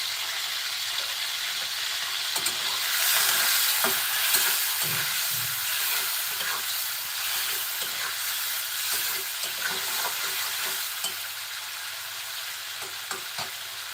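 Shrimp frying in a pan after being seasoned with salt and turmeric, giving a steady, close sizzle with occasional scraping stirs throughout and no talking.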